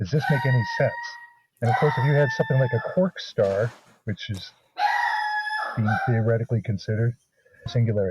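A doorbell that imitates a rooster crowing sounds several times through steady conversation, its tonal, crowing bursts riding over and between two voices talking in a podcast.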